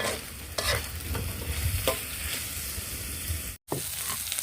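A sauce is stirred in a frying pan while it sizzles steadily, with repeated scraping strokes of a spatula close up and a brief silent gap near the end; no one speaks.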